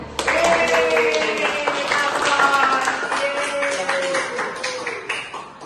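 Classroom applause during a physics lesson on Archimedes' principle, a steady burst of clapping from a group of students lasting several seconds, with voices mixed in underneath.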